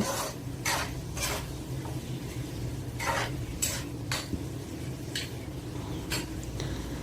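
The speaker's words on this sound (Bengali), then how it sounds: "পেঁয়াজ লবণ লবণ দেওয়ার পরে আমি এখন এগুলো মিক্স করে নিচ্ছি" Onions tossed with salt in a frying pan, a spoon scraping and clinking against the pan in irregular strokes over a soft sizzle, close by with no talking.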